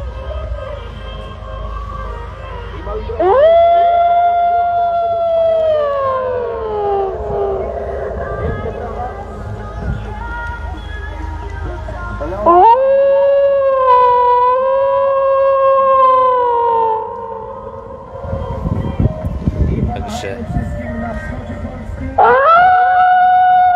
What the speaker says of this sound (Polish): Puścimy jeszcze wilka przy telefonie, to może prawa autorskie się nie doczepią